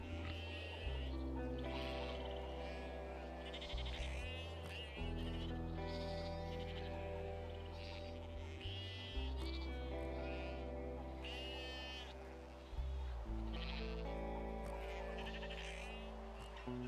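Sheep bleat repeatedly in the Broken Roads video game, layered over a loud, steady music bed, with several overlapping calls spread throughout.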